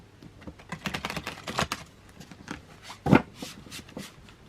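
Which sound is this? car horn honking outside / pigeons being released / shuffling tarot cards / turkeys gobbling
shuffling tarot cards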